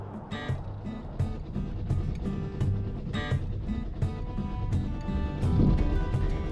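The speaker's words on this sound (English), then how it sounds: "Motoring out of the shallow lagoon at high tide, we set our course for Blind Bay" A small sailboat motors out of a shallow lagoon at high tide, its engine a steady, close rumble with continuous wind and water noise over it.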